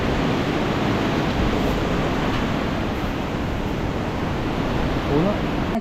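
Floodwater rushing in during Typhoon Uwan at a low-lying seaside home, a loud, steady broadband roar of water and wind filling the whole stretch without a break.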